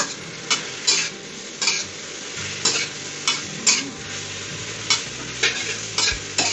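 Vegetables stir-fried in a pan with scrambled seasoned pork nearby, a spatula striking and scraping about once every half second over a low sizzle, close and clear with no voices.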